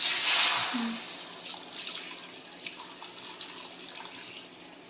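Strained egg soup pours into a kadai as a soft, steady liquid trickle, loudest in the first second and then settling to a quieter continuous flow.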